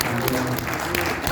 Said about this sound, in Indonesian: Tepuk tangan buat Kanwil Makassar